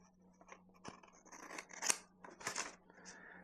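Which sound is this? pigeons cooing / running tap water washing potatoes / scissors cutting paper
scissors cutting paper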